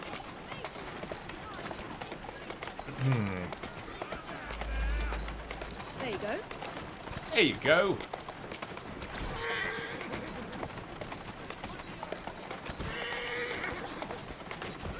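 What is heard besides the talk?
horse galloping and pulling a carriage in video game Assassin's Creed Syndicate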